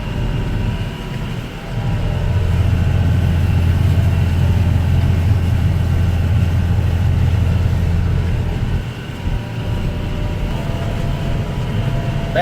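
A tractor engine runs steadily, heard from inside the cab as a loud, constant low drone that dips briefly near the end.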